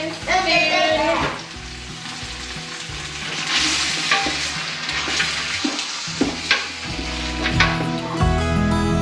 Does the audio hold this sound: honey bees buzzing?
no